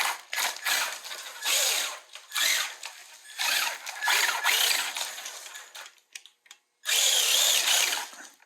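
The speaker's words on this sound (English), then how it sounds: "this motor's making some crazy noise" The small electric motor of an HPI Blitz 2WD RC car whines and buzzes in repeated bursts, revving up and dropping off several times, close and fairly loud, its tires slipping on a slippery indoor floor.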